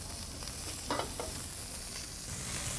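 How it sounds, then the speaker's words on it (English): Meat searing in a hot pan gives a continuous low sizzle with a couple of brief louder spatters. "So we got us a nice sear going on that."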